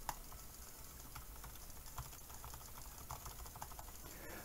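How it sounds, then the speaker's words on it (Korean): Low-noise keyboard switches and a computer mouse clicking together in a quick, faint patter of light taps, steady and unbroken, heard through a gaming headset microphone with no talking. "마우스와 키보드 소리를 동시에 내보도록 하겠습니다"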